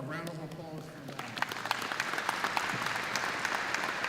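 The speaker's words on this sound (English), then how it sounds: "To Rebecca and Christine, who gave a heartfelt talk from their heart, a round of applause for them" A commencement crowd gives a round of applause, with dense, sustained clapping from a large audience that swells after a spoken line and fills the hall.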